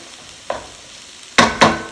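Onions sautéing in a pan for chili verde: a quiet background sizzle broken by a few sharp scrapes as they are stirred, with one soft stroke followed by two louder ones close together.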